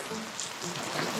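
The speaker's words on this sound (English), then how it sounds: "The rain is coming down harder." Heavy rain pouring down outside a cabin homestead, a dense, constant hiss of drops hitting surfaces nearby, steady and even with no clear talk over it.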